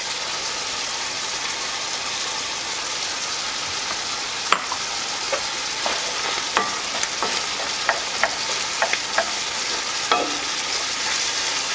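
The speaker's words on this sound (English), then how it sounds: "And now we're gonna add our finely chopped potato, just into small, tiny, tiny, tiny little pieces." Finely chopped potato fries in a pan for chile rellenos, giving a steady, loud, even sizzle with occasional clicks and taps of a utensil stirring.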